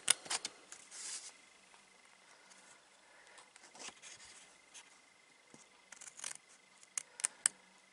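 Scissors snipping paper while crafting a mini album, a series of short sharp cuts in irregular bursts, close and quiet with gaps of near silence between.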